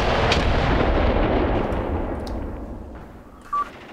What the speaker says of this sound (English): Tossing grenades at each other, classic.